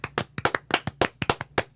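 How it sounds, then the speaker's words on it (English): A small group claps briefly in a quick, uneven burst of sharp, close hand claps, several hands striking out of sync for under two seconds with no talking. "How about one more round of applause for Pallet for all that awesome research, right?"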